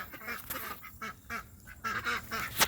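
Ducks quack and honk in short, faint bursts around a backyard vegetable garden, the calls scattered and uneven across a few seconds.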